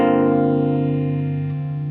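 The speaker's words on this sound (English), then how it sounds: "So that's the phaser. Let's go into Univibe mode here." An electric guitar chord rings through a ROSS phaser pedal set to Univibe mode, sustaining and slowly fading with a warm, gently swirling modulated tone, with no voices.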